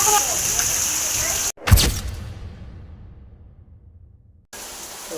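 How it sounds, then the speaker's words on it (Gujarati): Heavy rain falls in a steady, loud broadband hiss, cut by a short break, then a sharp whooshing burst that slowly fades before the downpour noise returns. "ચાલુ વરસાદ છે"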